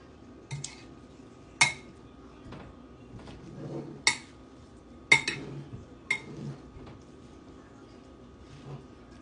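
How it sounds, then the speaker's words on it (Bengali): Salad ingredients with black pepper are mixed in a bowl, giving sparse, sharp clinks and taps at irregular intervals with quiet stretches between them. "আর একটু অ্যাড করব ব্ল্যাক পেপার এবারে মিক্স করে নেব সবগুলো"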